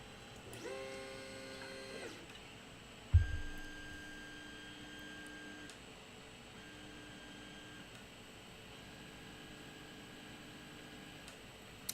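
A 3D printer fitted with a CR Touch bed sensor homes its axes, giving stepped motor whines in shifting pitches, a sharp knock partway through, and quieter humming movements afterward under a faint background hum.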